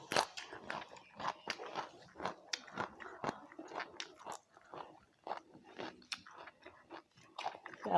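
Close, crunchy chewing and biting while eating a Thai fish larb meal comes in quick irregular bites that repeat steadily, loud and near, with almost no talk.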